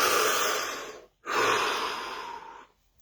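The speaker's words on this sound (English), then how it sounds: "Deep breath." A slow, deep breath drawn in and released during a guided relaxation practice session, an airy inhale and long exhale separated by a short pause, close and fairly soft with no talking.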